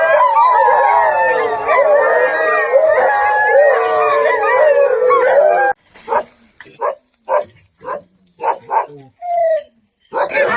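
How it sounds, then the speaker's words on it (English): Sled dogs in Alaska howl together in a dense, sustained chorus of wavering overlapping howls for several seconds, then break off into a series of separate short yips and barks with brief gaps between them. "The howl is their way of like communicating with each other."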